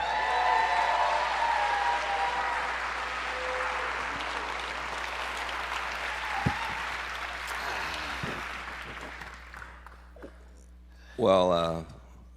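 An audience at a tribute to Dr. Martin Luther King, Jr. applauds in a dense wash of clapping that slowly fades over several seconds, with a few cheers and a voice speaking near the end.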